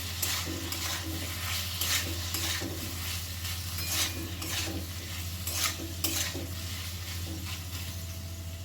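A chhana mixture sizzles steadily in a pan while a spatula stirs and scrapes it in repeated strokes, close and continuous with a low hum underneath.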